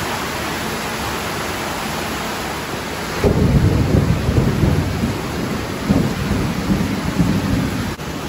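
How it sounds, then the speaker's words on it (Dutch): Heavy rain pours steadily outdoors on a rural road in Suriname, with deep rumbling thunder rolling in partway through and continuing loudly beneath the constant hiss of the downpour. "En het begint te regenen en de weg was al zo adventurous."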